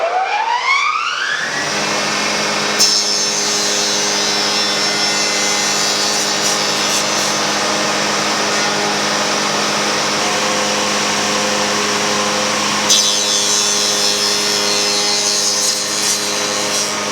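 A table saw runs loud and continuous, spinning up at the start and then cutting a tenon on a wooden test piece with a sustained whining hum, its pitch dipping briefly as the blade loads, without speech.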